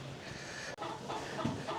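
Chickens in a barn, a flock of about eighteen hens, clucking softly at close range amid steady barn background noise with a brief dropout partway through.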